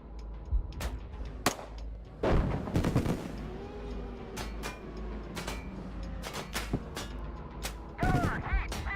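Tank gun rounds in the tank gunnery game GHPC, several sharp heavy shots spread irregularly over a low engine rumble, some close together, with no talk.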